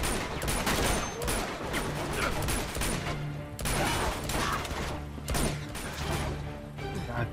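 Shotgun blasts in the action game Uncharted 2: Among Thieves during a firefight in Borneo, a series of loud, punchy shots at irregular intervals amid chaotic combat noise.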